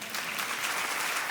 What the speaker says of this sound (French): Et là, normalement, tu peux applaudir.